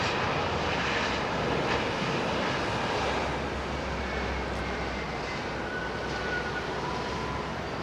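A Scandinavian Airlines airliner arriving on runway 27R at Heathrow, its engines a steady, broad roaring rumble that stays loud and even throughout with no voices.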